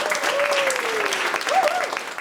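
An audience at a stand-up comedy show in Berlin claps in steady, dense applause, loud and continuous throughout, with a faint voice calling out over it.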